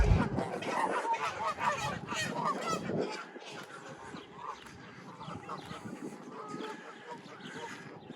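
Geese honk repeatedly beside a lake path, a busy overlapping chorus of calls that is louder at first and then thins to scattered honks, with faint background noise and no clear speech.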